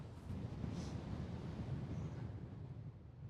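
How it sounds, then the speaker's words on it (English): Strong wind blows a gale at roughly 12 to 15 miles per hour on a paragliding site, a dense low rumble of gusts buffeting the microphone continuously at close range. "No running because it's blowing a gale."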